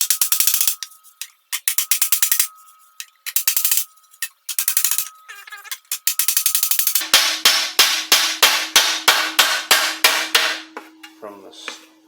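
A hand-operated metal shrinker works sheet metal in a garage shop, producing rapid, loud ratcheting clacks in repeated bursts, followed by a steadier series of heavier rhythmic clunks.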